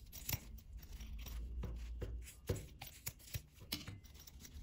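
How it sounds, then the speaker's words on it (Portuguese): Scissors cutting felt fabric for a small sewn keychain, a series of close, crisp snips at an irregular rhythm, about ten cuts, quiet and alone without speech. "Feltro não desfia, tá, gente? Então, pode ficar tranquilo, pode cortar."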